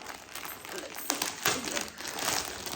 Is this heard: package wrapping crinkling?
yes